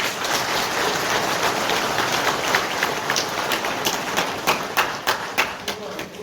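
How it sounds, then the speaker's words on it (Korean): A crowd at a political talk show in a hall at a theme park in Gumi claps in a dense, steady roar of applause that thins toward the end into separate, scattered claps. "그러면 장동혁 대표를 위해서 박수 한번 쳐주세요."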